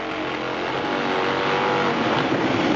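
Harley-Davidson Pro Dragster motorcycles at a 1995 All Harley drag race at Kil Kare Dragway, a loud, steady engine roar filling the whole stretch without letup, with no talk.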